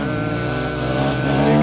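A new scooter's engine drones close by as it rides past, a steady loud motor whine with rich harmonic tones rising slightly in pitch and volume over a short moment.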